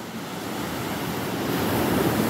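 Waves wash onto the sand at Nipah Beach on Pulau Aceh, a steady loud surf roar with wind, no voices.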